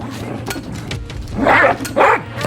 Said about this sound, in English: Is that a robot dog, or is this just a dog?